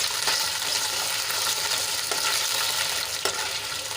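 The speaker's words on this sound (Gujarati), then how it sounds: "ફ્રાય કરી લઈશું આપણા ગુંદા થોડાક સોફ્ટ થાય ત્યાં સુધી એને સાંતળી લઈશું" Gunda, or glueberries, sautéing in oil in a pan with a constant close, bright sizzle, broken by a few stirring scrapes, with no voices over it.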